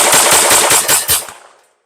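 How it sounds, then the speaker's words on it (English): A Grand Power K22 MK12 .22LR pistol fires CCI Stinger high-velocity rounds in a rapid string of about six sharp, loud cracks, close up, the last report ringing out into a short decay and then silence. "CCI Stingers, definitely high velocity, a hotter round. You're going to be able to tell that from the report"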